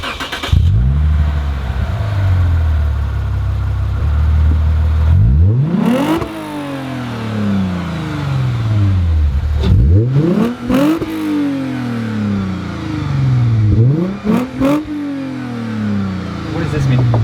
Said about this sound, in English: We're gonna start it up and you guys will hear the sound of it.